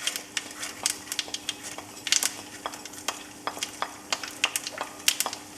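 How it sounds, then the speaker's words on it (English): Mustard seeds splutter in hot oil with dried red chilies, split black gram and fennel, giving sharp, irregular pops and crackles over a faint sizzle, close and fairly quiet, with no talking. "So you can hear the mustard seeds have started spluttering already."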